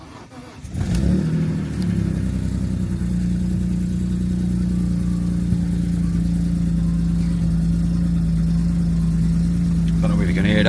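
A BMW E46 M3 engine with a major exhaust blow cranks and fires, then settles into a loud, steady, rough idle nearby with a low droning hum throughout.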